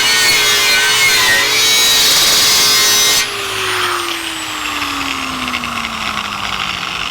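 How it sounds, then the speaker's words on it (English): A rotary wire brush scrubs the frame of a 1949 Chevrolet gasser with a loud, steady whirring grind. Partway through the tool is switched off and its pitch winds down as it coasts to a stop. "I'm just finishing up with a wire brush."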